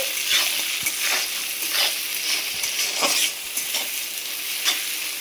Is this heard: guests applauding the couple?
no